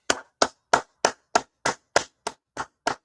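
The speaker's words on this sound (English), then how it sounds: "Go ahead, clap it up." Hands clap in a steady, evenly spaced beat, ten sharp claps at about three per second, close and loud with no voices over them.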